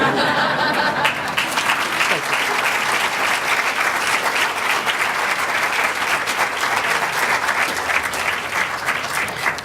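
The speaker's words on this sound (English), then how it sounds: "Or applause is fine." Sustained audience applause at a talk on standing against racism, dense and steady throughout with a few faint chuckles in the crowd.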